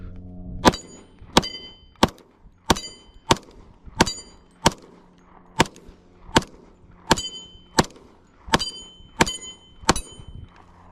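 A Glock G20 10mm pistol fired at targets, with about fourteen sharp, loud shots at a steady rhythm roughly every three-quarters of a second, each crack ringing with a short metallic echo.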